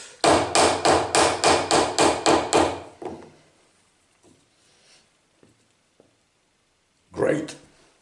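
A hammer taps on a small metal part in a workshop, eight quick even strikes in a steady rhythm, then a few faint knocks and one last louder tap after a pause.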